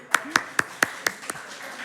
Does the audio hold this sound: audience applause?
yes